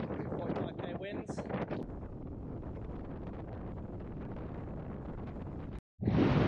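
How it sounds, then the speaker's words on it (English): Strong coastal wind buffets the microphone in a loud, continuous roar on a South Coast NSW shoreline, with a brief dropout near the end before the gusting resumes. "How's that for wind?"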